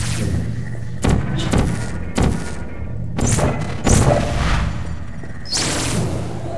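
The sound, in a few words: testing apparatus being destroyed in the video game Portal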